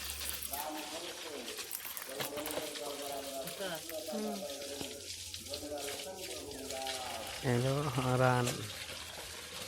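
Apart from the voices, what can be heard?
washing frog meat in water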